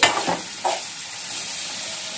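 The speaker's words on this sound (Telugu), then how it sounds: "కొంచెం మగ్గాక పసుపు వేసి కలపాలి" Turmeric being stirred into an Andhra-style ginger curry in a pan, with steady soft sizzling and a couple of scraping stir strokes near the start, no voices.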